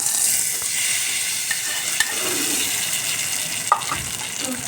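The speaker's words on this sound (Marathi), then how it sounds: "याच्यात मी राई लसूण आणि कढीपत्ता दुसरं काही नाही फोडणीला थोडंसं तेल टाकून घेतले बघा फोडणी आपली मस्तपैकी अशी याला बसली" Mustard seeds, garlic and curry leaves sizzle in a little oil as a tempering for raw mango chutney, a dense steady hiss with a few sharp pops and crackles scattered through it.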